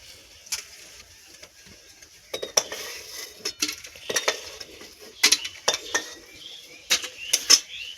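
Boiled eggs lifted out of a pot, a run of sharp metallic clinks and knocks of utensil against cookware, sparse at first then clustering into quick bursts, close by and without talk.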